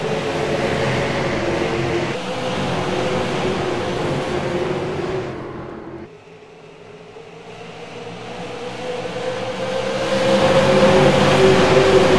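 A race car engine at Iowa Speedway roars on the throttle, loud and sustained, fading briefly as it passes and then swelling back to a strong drone.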